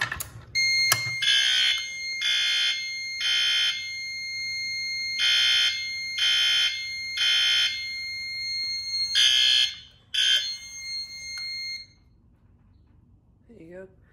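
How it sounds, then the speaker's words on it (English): A fire alarm demo board sounds after a pull station test, its horn-strobe giving repeated loud, even electronic blasts in a steady rhythm. The blasts stop near the end and a faint voice is heard. "This will be system test number one of my fire alarm demo board."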